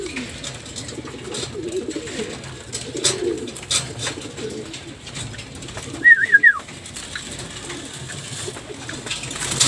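Hungry racing pigeons in a loft cooing and scuffling, with repeated close coos, sharp wing flaps and a brief burst of fighting flutter, fairly loud and near.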